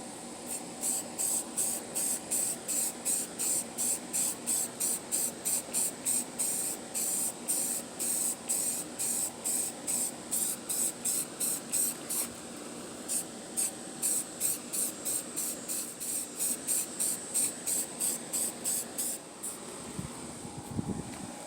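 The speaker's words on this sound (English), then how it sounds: "then spray it with yellow" Spray paint hisses out in a long series of short, rhythmic bursts onto a plywood stencil, close and steady, with a final pause near the end.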